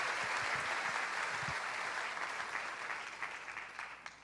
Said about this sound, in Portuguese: Eu acho que eles merecem seu aplauso, né?